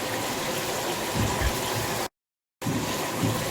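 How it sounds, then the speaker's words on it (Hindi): Half a cup of water goes into a pressure cooker with mutton and whole spices, a steady close rushing pour that cuts out abruptly for a moment and then continues. "1/2 कप पानी डालेंगे"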